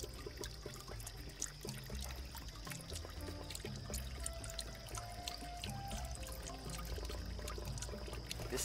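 Liquid vermicompost tea drips and trickles from an inclined worm box into a collector, faint, close patter with a light running-water hiss throughout and no talking.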